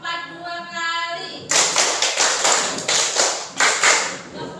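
Children clapping along in a counting clap game in an Indonesian classroom, several firm group claps in an uneven rhythm, loud and close, after a sustained tonal voice at the start.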